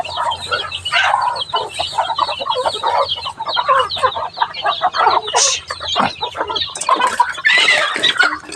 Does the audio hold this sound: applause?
no